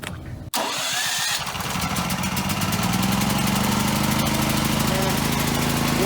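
A Westinghouse 7500W home standby generator running on gas or propane is started after a brief silence, then settles into a steady, fairly loud engine drone with a light mechanical whine.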